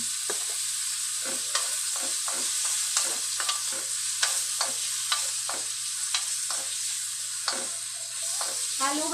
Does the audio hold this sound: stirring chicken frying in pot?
yes